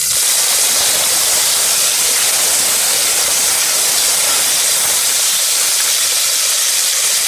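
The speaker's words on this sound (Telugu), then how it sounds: "ఫ్రై అవుతున్నప్పుడే మనం ఇందులో కరివేపాకుని యాడ్ చేసుకోవాలి." Curry leaves sizzling in hot oil for pappu charu make a loud, dense, unbroken hiss that stays steady throughout, close by, with no voices.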